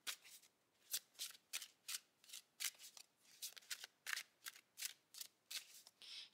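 A deck of oracle cards with fairy and botanical art is shuffled by hand, giving a steady run of crisp riffling bursts, roughly two per second, close and fairly quiet with no talking.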